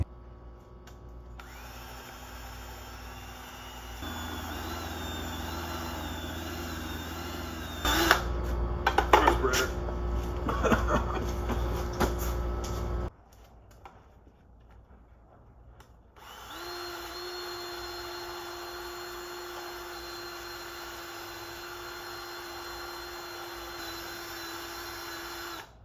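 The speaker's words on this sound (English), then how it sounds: "Time to start grinding away on it." Power tool grinding on a Jeep CJ intake manifold in a driveway, a steady drill-like whine running for several seconds, cutting out, then resuming after a brief quiet gap, close and fairly loud with no talk.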